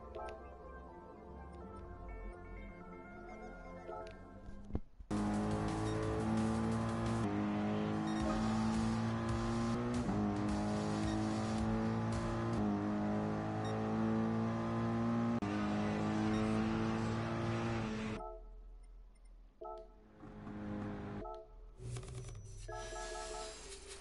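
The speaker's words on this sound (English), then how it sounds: "I was driving with the Mercedes AMG GT" Mercedes AMG GT racing in the GT Sport video game: a loud, continuous engine note rising and falling through gear shifts for about fifteen seconds, then dropping away into quieter, intermittent revving.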